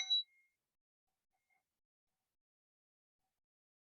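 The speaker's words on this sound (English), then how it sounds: "we're going to use this beautiful bell" One bright ring of a small bell struck in a ritual, a sharp metallic ding at the start that fades quickly into near silence, with a faint echo later.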